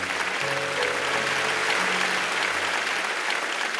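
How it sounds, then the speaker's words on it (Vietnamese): Dense, sustained applause fills a Vietnamese TV talent competition studio, a large audience clapping continuously and loudly, with a low musical hum underneath. "cho một tràng vỗ tay cho tinh thần này"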